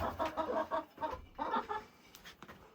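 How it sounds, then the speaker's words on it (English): Several chickens cluck in short, choppy bursts close by, with brief pauses between calls. "Heck yeah, chickens."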